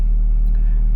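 A 2005 Toyota Caldina engine idles steadily just after starting, with a continuous low, even rumble close by and no revving.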